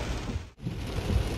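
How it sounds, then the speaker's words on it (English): Heavy rain pours at a busy airport, a steady broadband wash with a brief dip before it resumes at full strength. "It's raining, man."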